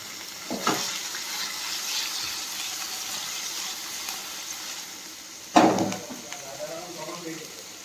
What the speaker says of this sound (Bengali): এখানে তেলটা গরম হয়ে গেছে আর এখানে পনিরগুলো কেটে রেখেছি এগুলো দিয়ে দেবো ফার্স্টে পনিরগুলোই ভেজে নিই